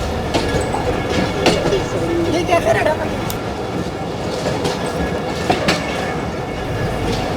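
The Pakistan Express train pulls away from a scheduled stop at Dina, with a steady rumble of rolling wheels, rhythmic clacks and a few sharp knocks heard from on board, while a person talks over it.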